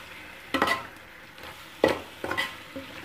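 Chicken frying in oil with masala for Thalapakettu biryani, a low sizzle under several bursts of a spoon scraping and clattering against the pan as it is stirred, close and with no talk.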